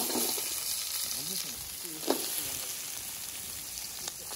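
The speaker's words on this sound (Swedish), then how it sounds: "Nu tänkte jag att du skulle börja steka äpple och lök." Apple and onion frying in oil and butter in a pan, a steady close sizzle throughout with a few sharper pops and stirring scrapes, no talking.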